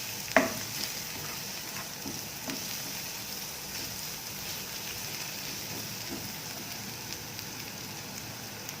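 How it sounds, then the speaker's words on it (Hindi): Onions fry in a stick of butter in a pan, giving a soft, steady sizzle with a faint stir or clink at the start, close and quiet with no talk. "1 स्टिक बटर की ली थी, उसके अंदर मैंने प्याज ऐड कर दिए हैं।"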